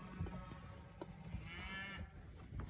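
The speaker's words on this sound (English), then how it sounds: "So there's all the cows." Cows mooing on a farm, several low bellowing calls rising and falling across the clip, fairly close and steady, with no talking.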